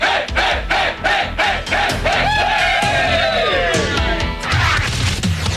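Crowd of drag racing fans at the 2002 NHRA O'Reilly Spring Nationals in Houston, cheering and shouting loudly in a dense, continuous roar with rhythmic chant-like surges.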